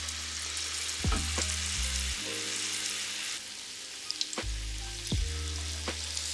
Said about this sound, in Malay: Pastikan minyak betul-betul panas sebelum menggoreng.